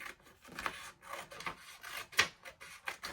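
Paper envelope being trimmed for a junk journal, a series of soft rasping cuts spaced irregularly across the clip, close and moderately quiet, with one sharper snip partway through and no voices.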